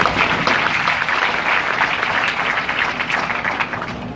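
A crowd applauds students at an event at the Chief Minister's residence in Bhopal: loud, dense clapping from many hands, close and sustained, tapering slightly toward the end.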